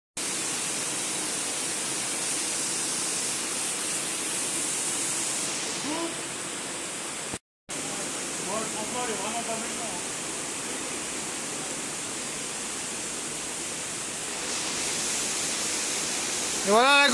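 A waterfall at the bottom of a canyon, heard as a steady, loud broadband roar that drops out for a moment midway, with faint voices mixed in underneath.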